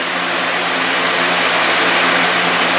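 A Lasko box fan runs on its high setting, giving a loud, steady broadband whoosh of moving air with a faint low hum underneath, constant throughout with no talking.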